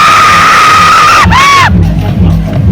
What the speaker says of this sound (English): let us all welcome contestant number 17 with a thundering round of applause.